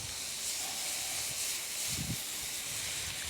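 Onions dropped onto smash burger patties on a hot griddle, giving a steady, close broadband sizzle with a few brief louder crackles midway, no talking.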